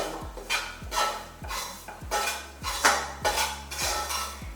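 Black kavuni rice flour dry-roasting in a new pan, stirred with a metal spatula that scrapes and knocks the pan in a steady rhythm of roughly one stroke every half second, close up.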